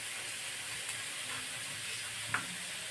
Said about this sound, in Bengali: আদা রসুনটা পেঁয়াজের সঙ্গেও ভালোভাবে ভেজে নেব।